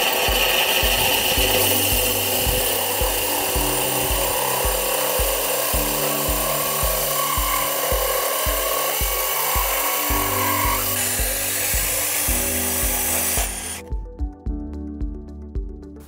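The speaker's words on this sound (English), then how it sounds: "Then you put your bit on your drill." An electric drill fitted with a water-cooled tile bit cuts a circle in floor tile, giving a loud, continuous grinding whine with a shifting pitch that stops near the end.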